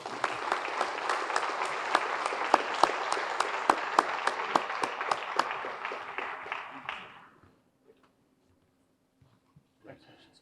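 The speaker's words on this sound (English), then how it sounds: "How about another round of applause for Adrian Cisneros and Jason Perez?" Audience applause at a firefighters' awards banquet for two newly sworn firefighters, a loud, dense burst of many clapping hands with sharp accents that fades out after about seven seconds into near silence.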